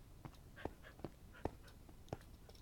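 A dog in the video game Minecraft gives soft, faint whimpers, about five short evenly spaced whines over a quiet background, with no speech.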